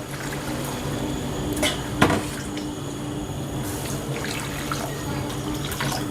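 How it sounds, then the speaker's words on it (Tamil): Continuous rush of water pouring into a pot, steady and moderately loud, with a couple of light clanks from cookware. "இப்போ இதில் மூணு டம்ளர் தண்ணி ஊற்றிக்கலாம்"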